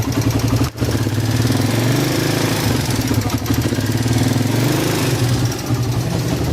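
A Bajaj Raider 150 motorcycle engine runs steadily and loud up close, a continuous rough drone with a fast ticking rattle riding on it and a brief dip near the start.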